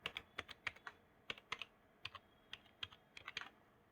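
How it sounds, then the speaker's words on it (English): Keys clatter on a computer keyboard as a phone number is typed, a couple of dozen crisp close taps in short uneven bursts with brief pauses, in a quiet room. "Now type your number."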